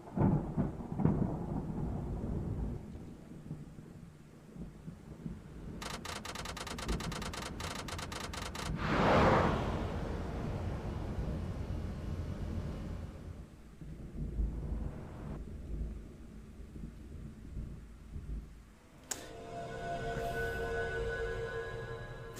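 Thunder rolls through a thunderstorm, with a long loud rumbling swell near the middle and lower distant grumbles before and after, heard indoors with faint background noise and no talk.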